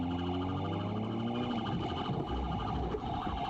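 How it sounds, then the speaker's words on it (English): A police car siren sounds from a played video, its rising and falling wail loud and continuous over a dense mix of noise for several seconds. "The sirens are going."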